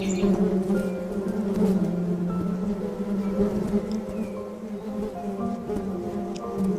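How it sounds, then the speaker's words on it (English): Syrian honeybees buzz around their hive cells, a dense, steady hum of many wings close by with individual bees droning past, with no talking. "Look here to this bee."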